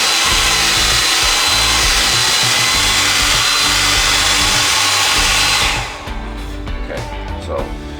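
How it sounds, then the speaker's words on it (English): A blow dryer, used for weathering an HO scale model locomotive, roars loudly and steadily, then drops to a quieter, muffled hum for the last couple of seconds. "we're going to use a blow dryer, and we're going to have it on."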